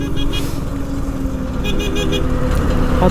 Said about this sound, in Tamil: லாரிக்காரங்க வந்து ஹார்ன் அடிக்கிறாரு